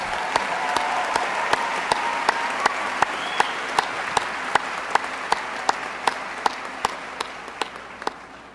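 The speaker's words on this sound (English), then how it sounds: "Round of applause for these students." An audience at an evening recognition ceremony applauds students, a steady wash of many hands clapping, with one nearby clapper's sharp, evenly spaced claps standing out throughout.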